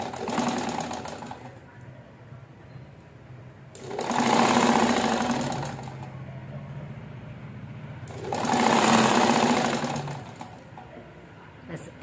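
An electric sewing machine stitching piping onto a blouse, running in a steady close buzzing whir that surges louder in two long stretches while someone talks over it.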